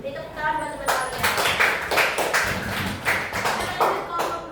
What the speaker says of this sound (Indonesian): Beri tepuk tangan buat teman kalian